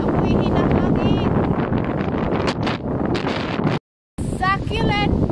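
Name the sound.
strong wind blowing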